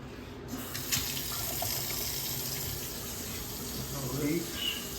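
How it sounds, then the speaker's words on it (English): Water runs steadily from a sink faucet, a close continuous splashing hiss that lasts throughout, with slight shifts in flow. "Faucet's looking good."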